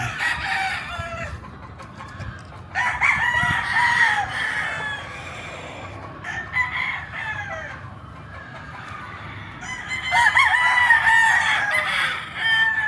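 Sweater Gilmore gamefowl roosters crowing repeatedly, loud and close, several long crows in a row with clucking and farmyard noise between them, no talking.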